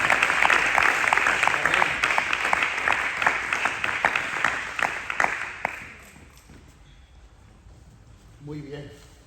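An audience in a Bible class claps in applause, a loud burst of many hands that gradually thins and fades out over several seconds, followed by quieter room sounds and a brief voice near the end.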